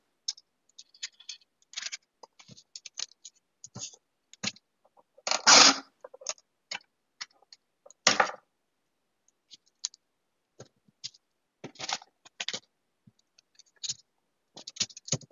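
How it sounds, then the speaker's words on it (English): Tape being pressed and smoothed along the edges of a photo frame for an upcycled Christmas craft, heard as close, quiet, irregular scratchy clicks and brief rips separated by silences, with no talking. "So I'm going to be just taping the edges here."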